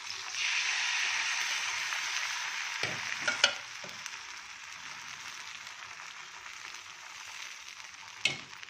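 Set dosa batter sizzles steadily on a hot tawa, a continuous frying hiss that dips slightly partway through, with a few brief utensil knocks near the start and end.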